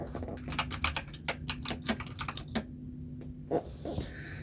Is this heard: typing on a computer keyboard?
yes